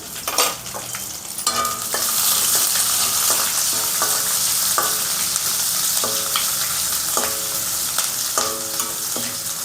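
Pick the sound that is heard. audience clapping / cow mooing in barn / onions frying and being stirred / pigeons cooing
onions frying and being stirred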